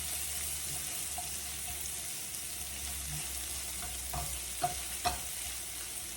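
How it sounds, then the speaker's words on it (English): Chopped onion sautéing in a pan for scrambled egg tacos, giving a steady close sizzle with a few sharp clinks of a utensil near the end; no one speaks. "So I'm gonna saute those onions now,"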